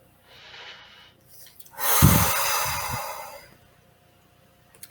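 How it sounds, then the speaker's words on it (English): A person draws a soft inhale, pauses, then releases a longer, louder breath close by, followed by quiet. "Take a nice deep breath in."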